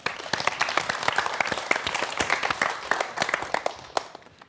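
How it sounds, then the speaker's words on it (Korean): An audience applauds as a professor is introduced for a science lecture on mitochondria, a crisp, close round of many individual hand claps that holds steady and tapers off at the end. "자, 김은빈 교수님의 강연 역시 박수 부탁드립니다."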